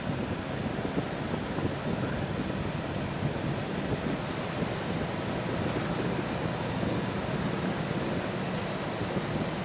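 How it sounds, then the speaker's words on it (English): Steady rushing water from a river near a campground at Deep Creek or Smokemont in the Smoky Mountains, a constant broadband wash heard from a campsite with no talking. "you can hear the river from this side anyway"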